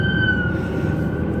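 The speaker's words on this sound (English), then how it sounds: "There's always some ambulance come through and just messing up the video" An ambulance siren holds a steady high tone over a low rumbling of traffic, loud and close, with no voices.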